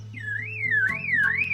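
A bird mimics a car alarm with a clear, loud warbling whistle that rises and falls in smooth repeated sweeps, close and alone, with a couple of sharp clicks mixed in.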